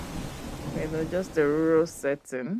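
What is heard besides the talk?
rain falling on a zinc roof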